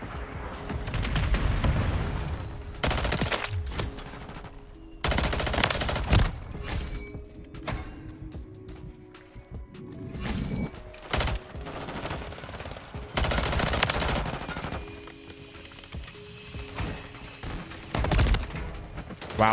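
Gunfire from the Striker 9 in the shooter game Modern Warfare 3 (MW3), with bursts of loud close shots recurring through the clip amid game ambience and no talking.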